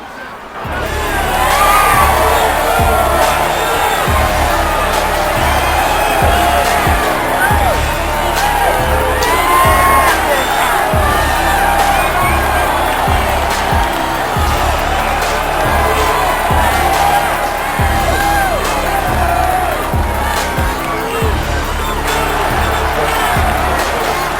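A crowd at a wrestling-style fan event cheers, whoops and shouts continuously, a dense, loud roar of voices with scattered clapping for two performers.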